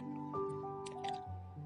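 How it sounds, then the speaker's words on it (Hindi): Quiet rain dripping as a story sound effect, a few soft watery drips and squishy splats over a brief moment, faint and close. "मगर बारिश रुकने का नाम ही नहीं ले रही थी"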